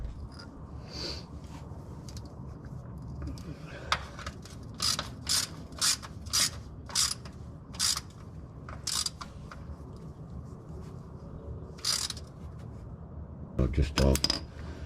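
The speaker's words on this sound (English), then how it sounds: "Going to reinstall the drain plug." A hand ratchet drives the differential drain plug back into a Jeep JL, clicking close by in several quick bursts separated by short pauses.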